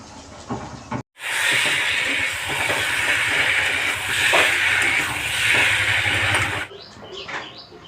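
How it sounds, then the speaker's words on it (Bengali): Water hits a pan of hot jackfruit and prawn curry with a sudden loud, sustained hiss and sizzle that lasts several seconds before dying away abruptly, with brief sounds of movement before and after. "এই যে তরকারিতে জল দেবো।"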